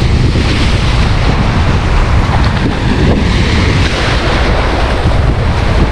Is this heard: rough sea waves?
yes